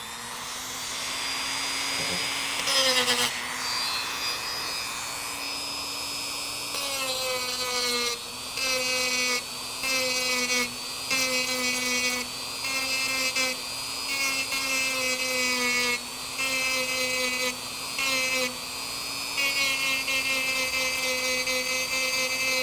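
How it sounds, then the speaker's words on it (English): A rotary tool grinds and bevels out a gouge in a Hartzell Kevlar composite propeller, a high steady whine that surges and drops in repeated short passes against the blade, close and continuous, with no talking. "I'm going to go down to the bottom of this gouge, and then I'm going to remove extra material around it to effect the repair."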